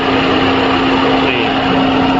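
A 2014 Toyota Vios 1.5E's NZ engine runs at a steady idle, a constant mechanical drone with a faint whine, close and fairly loud throughout.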